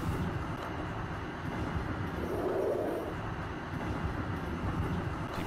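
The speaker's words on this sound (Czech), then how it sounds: "se snažím buď tramvaj zrychlovat, nebo zpomalovat." A 30T tram accelerates in the SIMT tram simulator game, a steady low electric motor hum and rolling rumble with a faint swelling whine midway, continuous and moderately quiet.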